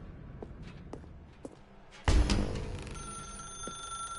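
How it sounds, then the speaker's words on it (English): A telephone rings inside The Stanley Parable video game, starting with a loud burst partway in and sustaining a bright tone after a few soft footstep-like taps. "Now pick up the phone."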